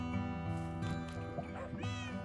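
Cat meowing in the Minecraft video game, a few short mewing calls heard over steady background music.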